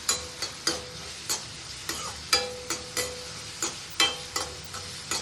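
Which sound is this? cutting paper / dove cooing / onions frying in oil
onions frying in oil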